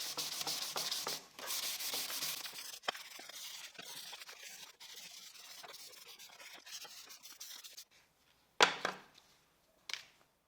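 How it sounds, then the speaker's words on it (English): Steady rhythmic scratching of fine sandpaper rubbing across wood during finish sanding, continuing for several seconds before stopping, followed by a couple of short knocks. "To finish the sanding, I will use an even finer sandpaper."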